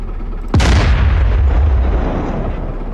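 A single heavy artillery blast destroys an ammunition dump in the combat simulator DCS World, erupting suddenly with a deep booming crack and then a long rumbling decay that fades slowly.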